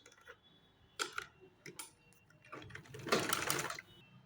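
Sewing machine stitching pajama fabric in short bursts: quick mechanical clatter starting and stopping, with a longer, louder run near the end, close by and without speech.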